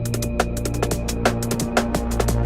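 A drum and bass drum break loops with longer, ringing snare hits over a deep sustained bass, dense and continuous with steady hi-hat patter.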